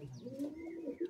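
Madrasi pigeons at a home pigeon sale in Bagnan, cooing in a brief, soft, throaty burble with a few chirpy notes, close by and quiet.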